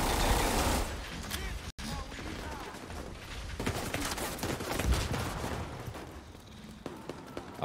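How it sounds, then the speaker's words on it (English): Heavy, sustained gunfire in a large territory-control battle in The Division 2: Warlords of New York, with dense overlapping bursts and booms close by, broken by one brief drop near two seconds. "There's like a giant battle going on by me and bullets flying everywhere."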